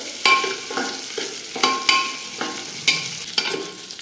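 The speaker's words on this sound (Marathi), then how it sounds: "चांगलं लालसर होईपर्यंत फ्राय करून घ्यायचे" Frying until reddish brown for chicken biryani, with a spoon scraping through the sizzling pan in sharp, rhythmic strokes about every half second, close and fairly loud, no talking.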